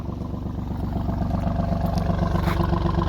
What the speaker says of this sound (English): that way you guys can take a listen to the exhaust here.